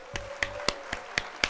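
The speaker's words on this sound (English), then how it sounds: "Let's hit the old applause there" Six evenly spaced single hand claps from a stream applause effect. They sound crisp and close, with a slow steady rhythm and no talk over them.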